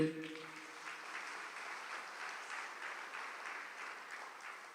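Congregation clapping with raised hands during a church sermon, a soft, steady wash of many hands, fairly distant and even, with a brief voice at the very start.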